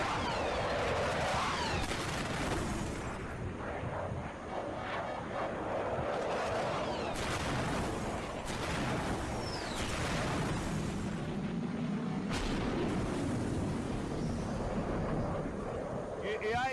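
Missile strikes set off a dense run of booming explosions with crackling bursts and rumbling debris, heard at a distance and fairly faint, repeating across the whole stretch.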